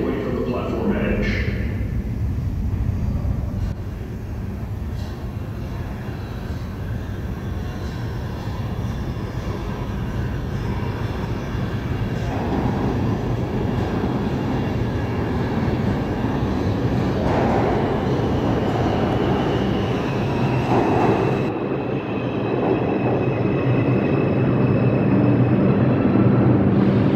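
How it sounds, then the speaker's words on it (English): A New York subway 4 express train rumbles into 138th Street-Grand Concourse station with a sustained, loud roar and rattle that builds toward the end, while an automated announcement plays over it. "Approaching the station, please stand away from the platform edge."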